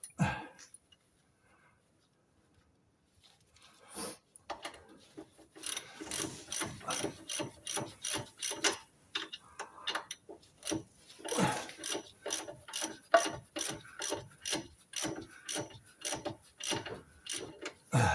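A ratchet tightens the anti-roll bar bushing bolts on a Jaguar XK8, beginning after a quiet stretch and then giving repeated rapid clicking bursts in an uneven rhythm, close and fairly loud.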